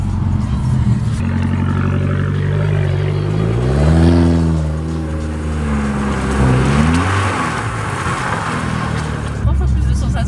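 An Abarth car drifting on summer tyres, its engine close and loud, revs swooping up and down over a steady drone, with a voice speaking at times over the engine.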